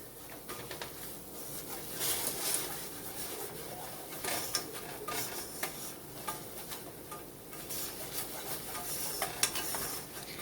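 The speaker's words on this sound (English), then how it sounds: "Get that all whisked in." A whisk scrapes quickly and continuously through flour and fat in a pan while a nacho cheese sauce is started, giving a steady close ticking and swishing over a low background hiss.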